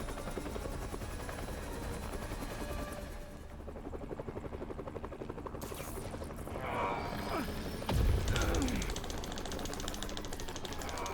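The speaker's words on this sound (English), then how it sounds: "They're stealing a chopper." A helicopter in the Spider-Man PS4 video game gives off a continuous rapid rotor chop, loud and steady throughout, mixed with game sound effects and a heavy thump near the end.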